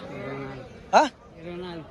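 Sheep at a livestock market in Pileru give one short, loud bleat in the middle, between stretches of someone talking over steady crowd murmur.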